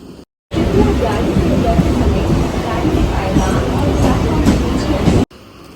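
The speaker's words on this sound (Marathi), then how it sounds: "तशी मित्रांनो ट्रेन चालू झालेली आहे" A small toy train at a zoo in Mumbai's Byculla runs with passengers aboard, giving a steady close rumble of moving carriages under a crowd's babble throughout, with a brief cut near the start.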